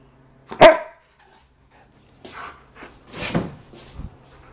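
A dog gives one sharp, loud bark, then after a pause a few softer barks and grumbly yips follow, close to the listener in a quiet room.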